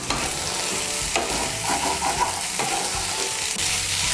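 Boiled mung dal, potato and spinach being stirred and fried over raised heat in a pan, a steady close sizzle with scraping spoon strokes and soft clinks against the metal, no voices.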